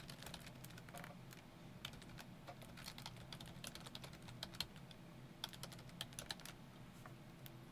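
Rapid, uneven keystrokes on a computer keyboard, close and clear, with a steady low hum underneath and no talking.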